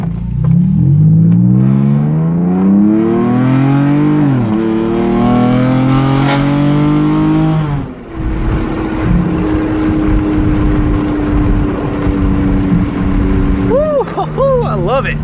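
A 2012 Dodge Charger SXT with a 3.6L V6, Magnapack exhaust and K&N intake revs up loudly in rising sweeps, drops, then holds a steady high idle before a few quick blips at the end, with a voice under it.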